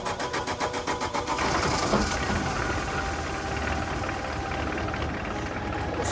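Vauxhall Astra diesel contaminated with petrol, cranking with a rapid rhythmic chug before catching into a rough, uneven running rumble, heard up close.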